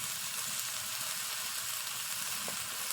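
Fried snails with pumpkin frying in a pan, a continuous dense hiss of hot oil, steady and close with one faint clink near the end.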